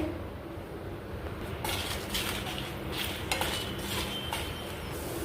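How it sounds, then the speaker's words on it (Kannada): Guntur red chillies dry roast in a pan while being tossed, a close rattling and scraping of dry pods against metal with occasional clinks over a steady background hiss. "ಈಗ 4 ರಿಂದ 5 ಗುಂಟೂರು ಮೆಣಸನ್ನು ಸಹ ಹುರ್ಕೊಳ್ತಾ ಇದ್ದೇನೆ"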